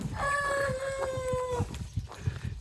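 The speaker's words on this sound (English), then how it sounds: "Yeah, roosters." A rooster crows once, loud and fairly close, its call trailing off, followed by a few soft clucks and rustles.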